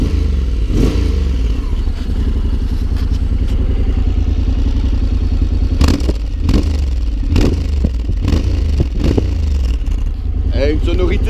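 A Honda X-ADV motorcycle engine runs close by with a loud, throbbing idle, broken by brief revs and clattering knocks, while someone talks over it.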